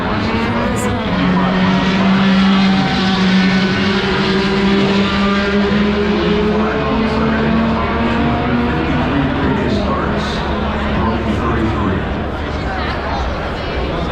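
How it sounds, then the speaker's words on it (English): Race cars on Carb Day at the Indianapolis Motor Speedway scream past one after another, their high engine whines rising and falling as they pass. A loud, continuous roar carries through the whole stretch. "Oh, here comes a bunch more cars."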